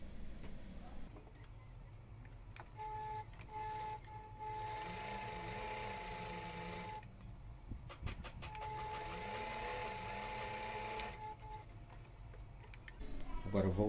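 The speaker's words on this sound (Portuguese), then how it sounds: "E vamos à máquina e vamos costurar este lado redondo." A sewing machine runs a zigzag stitch along the round edge of a homemade fabric mask, whirring steadily in two long close runs with a short pause between them.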